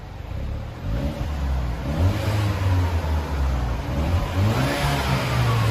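A Kia Forte 5 SX turbocharged engine with stock exhaust idles, then revs up and down several times, a loud, throaty mid-pitched roar close by with no one speaking.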